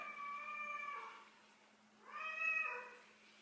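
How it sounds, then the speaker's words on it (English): A pet cat meows twice indoors, each call drawn out for about a second, moderately near and alone over a steady low hum. "You hear my kitty cat in the background."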